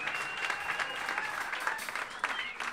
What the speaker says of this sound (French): qui nous demande d'accueillir sous un tonnerre d'applaudissements